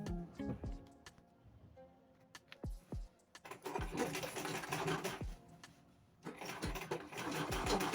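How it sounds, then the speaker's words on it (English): A sewing machine stitches a dress, running in long, steady bursts after some scattered clicks and handling knocks. It sounds fairly quiet and close, and nobody speaks. "I'm just going to go ahead and do a lot of stitching together"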